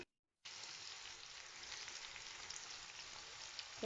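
Tomato and onion sauté in a covered pan for Jamaican ackee and saltfish, giving a steady, dense sizzle after a brief silent start, with one sharper clatter at the very end.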